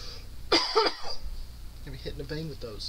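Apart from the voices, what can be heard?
person coughing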